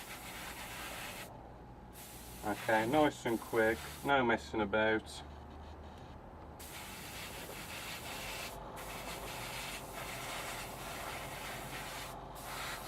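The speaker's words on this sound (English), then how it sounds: "we'll just spray this black" A person speaks briefly over a soft, steady hiss of black aerosol spray paint on a 1/48 scale model aircraft part, with short louder bursts of spraying after the talking ends.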